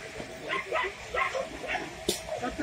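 Several dogs at a shelter bark and yip in short bursts, some distant and some nearer, at a fairly low level, with one sharp louder bark near the end.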